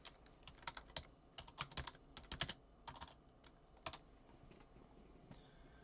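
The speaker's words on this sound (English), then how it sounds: "maybe I just need to type in Stakeco." Typing on a computer keyboard, quiet close-up clicks arriving in quick irregular bursts with short pauses, a few louder keystrokes standing out, and no talking.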